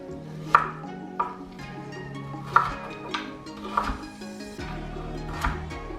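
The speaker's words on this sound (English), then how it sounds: "you're just gonna cut big chunks like this in half or into thirds" A kitchen knife chops unpeeled ginger into big chunks on a cutting board, giving several separate sharp knocks spaced irregularly over a few seconds, close and fairly clear with no talking.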